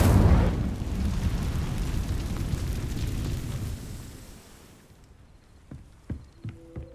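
The Incendio fire spell cast in Hogwarts Legacy opens as a loud burst of flame, then roars and crackles before fading out, followed by a few soft thuds and clicks in near silence.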